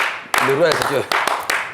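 Scattered hand claps from a small group in a studio discussion, several sharp bursts spread under someone speaking French.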